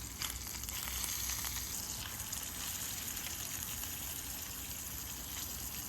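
Fish frying and crisping in a pan over a campfire-style cook, a steady fine crackling sizzle with soft popping, faint and continuous with no voices.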